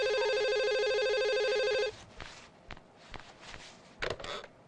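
Telephone ringing with a steady electronic ring tone lasting about two seconds, then cut off, followed by faint handling noises and soft footsteps nearby.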